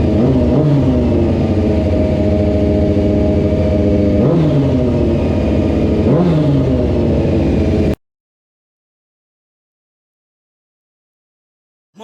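A cheap stunt bike engine, freshly given new oil, starts and revs loudly and steadily up close for several seconds with rising and falling pitch, then cuts off abruptly into silence.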